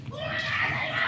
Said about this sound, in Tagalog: may sumisigaw sa labas